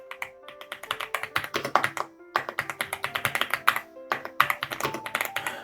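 Typing on a computer keyboard at a desk setup with a mini PC, a dense run of quick close key taps in two bursts separated by a brief pause, steady and moderately loud with no talking.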